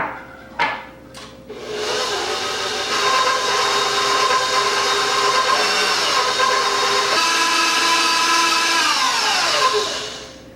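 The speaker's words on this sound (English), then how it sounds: "I'm going to mix this until it's creamy" An electric mixer creams butter and sugar for a peach squares cake batter, starting with a couple of brief knocks before a loud, continuous whirring drone that holds steady for about nine seconds, then cuts off.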